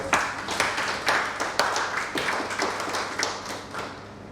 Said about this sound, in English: we welcome CA Dr. Sanjeev Kumar Agarwal with a big round of applause.